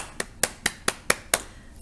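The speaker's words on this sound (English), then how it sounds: "clap for you" Six sharp hand claps in an even, quick rhythm, close and crisp, with no talk over them.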